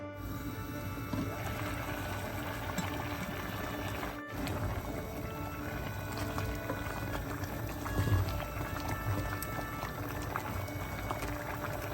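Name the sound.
tamarind rice porridge simmering in a covered pot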